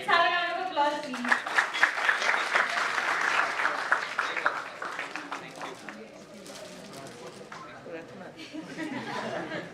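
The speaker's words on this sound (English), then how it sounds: "Let's have a round of applause, please." Audience at a DevFest Indore 2023 tech conference session giving a round of applause, lively clapping rising quickly and continuing for several seconds before fading into chatter, with a voice speaking over it at the start.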